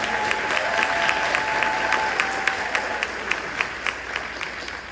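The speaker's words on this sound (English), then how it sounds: "Let's give our fire department a round of applause." An audience at a State of the City address applauds the fire department, a dense steady wash of clapping with a few sharper individual claps standing out as it gradually tapers.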